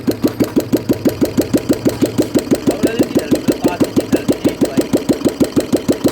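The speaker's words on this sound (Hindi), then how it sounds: "तो भाई अब ये इंजन हो गया इसका स्टार्ट। देखो कैसे वर्किंग करता है भाई ये।" A repaired Royal Enfield Bullet motorcycle engine runs at an auto repair market in Rewari, thumping in a steady, rapid, even rhythm, loud and close throughout with no voices over it.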